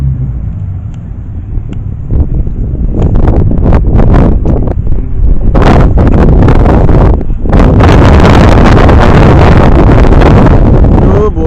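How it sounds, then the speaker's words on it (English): Strong, gusty wind roars and buffets the microphone outdoors at a car meet, a loud continuous rush with rumbling swells, while voices speak faintly underneath. "that wind is monstrous"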